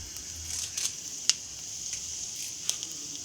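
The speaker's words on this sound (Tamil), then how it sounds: "தாளிப்பு வடகம் கொஞ்சம் போடுறேன்." Vadagam drops into hot oil for tempering a peanut chutney, giving a faint, steady sizzle broken by a few sharp crackles and pops.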